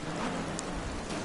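Heavy rain in a racing video game at Snetterton, a dense, steady hiss of downpour filling the whole short moment with no talking.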